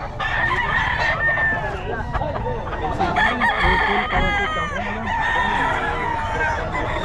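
Roosters crow loudly and repeatedly close by, mixed with clucking hens, while people talk in the background.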